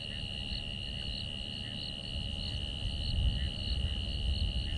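Crickets calling at dusk on a sunset safari drive, a steady high-pitched chirring chorus with rhythmic pulses over a low rumble of wind or vehicle noise.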